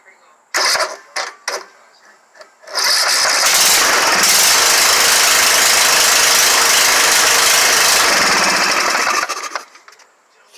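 A Husqvarna RZ4619 zero-turn mower engine with its muffler removed and belts released cranks in a few short bursts, then roars loud and steady for about six seconds before cutting off.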